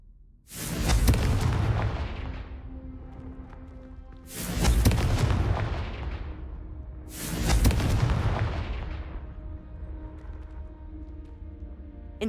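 Three heavy booming fiery blasts of the Confringo spell in Hogwarts Legacy, set in a cave, each a loud sudden burst with a long rolling decay, spaced about three seconds apart with no talk over them.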